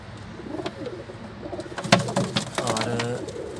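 Parwazi flying pigeons, including a teddy pair, coo nearby in a loft, giving several throaty, rolling coos that build and overlap toward the end.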